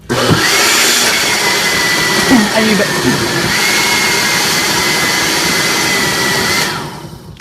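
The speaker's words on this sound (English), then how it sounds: "we're going to put the lid on and we're going to blend it up just a little bit" A blender blending salsa whirs loudly and steadily for several seconds, briefly straining as contents churn, then winds down and stops.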